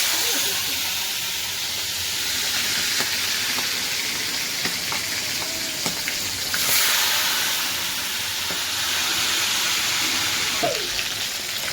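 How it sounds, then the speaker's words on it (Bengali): Meat pieces frying in hot oil for home-style biryani give off a continuous loud hiss and sizzle, with occasional faint clinks, for about twelve seconds. "এইভাবে আমি প্রত্যেকটা মাংস ভেজে নিই, ভেজে তুলে নিই।"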